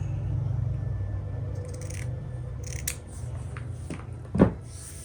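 Scissors snip through old shirt fabric in a series of crisp, close cuts with faint rustling between them, ending in one louder snap of the blades.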